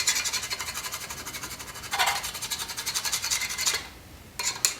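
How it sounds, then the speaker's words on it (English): A burnisher rubbed firmly across fine silver foil on a metal keum boo cuff, close rhythmic scraping strokes that pause briefly near the end, no speech. "really burnish it into the fine silver"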